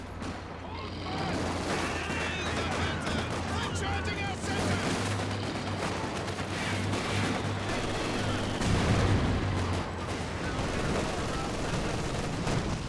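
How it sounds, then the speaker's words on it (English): StG assault rifles firing in a Company of Heroes 2 battle: dense, continuous bursts of gunfire with distant booms under a steady battle roar, while a voice talks over it. "STGs pop on those Fox Grenadiers right as the conscripts get up close."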